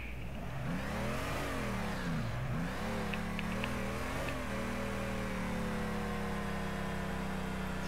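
A 1969 Mustang with a 605 horsepower crate engine driving, loud and close, its engine note rising and falling through revs before settling into a steady drone.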